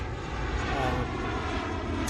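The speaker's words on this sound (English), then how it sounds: "You'll hear planes flying over through the whole round because we're right next to DFW" Airplanes passing overhead a golf course just north of DFW airport, a steady, broad engine roar that fills the whole stretch at fairly loud level, with no voices over it.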